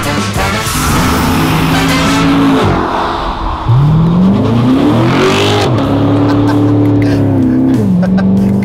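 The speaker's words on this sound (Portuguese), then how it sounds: "Tá mudando bem de marcha" A sports car, a Lamborghini Huracán or Chevrolet Corvette, accelerates hard with loud rising engine howls broken by quick gear shifts, heard close up from inside the car.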